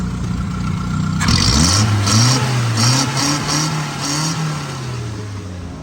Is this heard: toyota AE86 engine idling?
yes